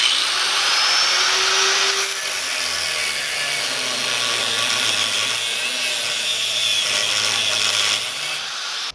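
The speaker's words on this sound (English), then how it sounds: "Firstly, you cut the bolt in half." A power tool grinds steadily through a metal bolt, cutting it in half, a loud continuous whine that holds for several seconds before cutting off.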